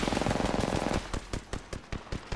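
Rapid automatic gunfire in the video game Apex Legends, a loud, dense burst of shots followed by a series of separate, evenly spaced cracks.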